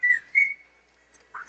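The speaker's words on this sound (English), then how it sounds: "Sounds like a whistle, though." During a U18 hockey broadcast between the Wizards and Seahawks, a thin whistle-like tone sounds in two short blasts, then one more brief note, all moderately faint over a quiet background.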